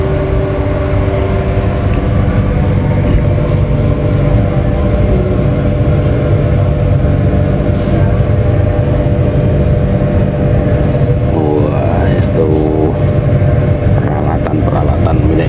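Rumbling onboard noise of the Ranggajati executive train pulling out of Sragen station in Indonesia, a loud continuous low drone with engine hum and tonal whines, some faint voices mixed in.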